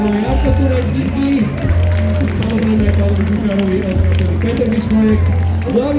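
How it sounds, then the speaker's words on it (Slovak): Concert crowd at an outdoor May festival in Trenčín applauding the sound engineers, steady clapping and cheering heard under a loud amplified voice speaking over the PA. "Jeden veľký potlesk aj pre našich zvukárov, ktorí dneska celý deň makali"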